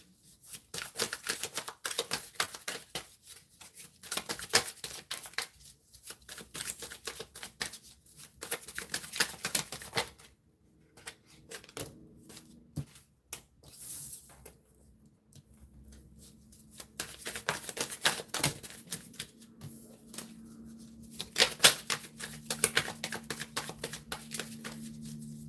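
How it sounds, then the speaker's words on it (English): Tarot deck being shuffled by hand, bursts of rapid riffling and card slaps separated by short quiet pauses, moderately close, with no talk. "take some time to really shuffle this deck up good"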